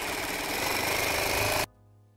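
A sewing machine stitches lace curtain fabric with a fast, steady mechanical whir that runs loud and continuous, then stops abruptly.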